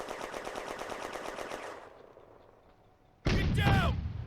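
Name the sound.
tank machine gun firing, from a video game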